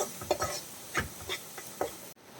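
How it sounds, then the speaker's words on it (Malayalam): Spice powders being stirred in a pan while making a spicy macaroni gravy, giving a handful of soft, irregular scraping strokes close by, alone with no talk, ending in a brief drop to quiet. "ആ പൊടികളുടെ പച്ചമണമൊക്കെ മാറുന്നത് വരെ ഒന്ന് മിക്സ് ചെയ്ത് കൊടുക്കാം"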